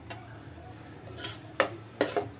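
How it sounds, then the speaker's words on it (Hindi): Besan being stirred and roasted in a pan, with a soft scraping of the spoon and two sharper clinks against the metal over a faint low background. "ये देखिए, ऐसे बराबर चलाते हुए भुनेंगे"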